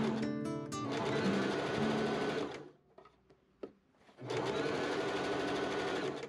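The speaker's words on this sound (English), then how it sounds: "I machine gather some neck ruffles" A sewing machine running steadily while gathering linen neck ruffles for a medieval chemise, with a loud continuous whir that stops briefly for a few clicks and handling sounds before starting up again.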